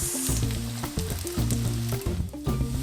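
Tuna cakes fry in a pan with a bright, continuous sizzle, close and loud, while low tonal music hums underneath in a steady repeating pattern.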